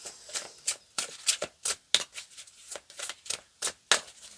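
Tarot cards being shuffled by hand: a steady run of about a dozen crisp riffling bursts, close and clear, with no talking.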